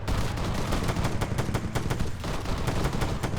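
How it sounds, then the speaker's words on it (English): Machine gun fire in a military video game: loud, close, continuous rapid bursts of shots, with no talking. "Machine gun, soldier, 100 meters north."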